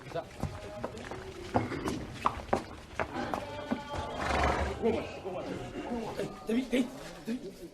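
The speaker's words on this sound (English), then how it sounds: "most importantly, a horse. It's a white stallion." A white stallion, the Emir's horse at a crowded ceremonial event in Nigeria, whinnies and stamps with irregular hoof clops on the ground, close by, while people talk over it.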